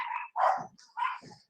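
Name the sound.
dogs barking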